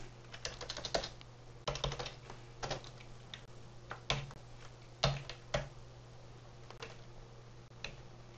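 Someone types on a computer keyboard in irregular bursts of crisp, close key clicks separated by short pauses, with a faint steady hum in the background.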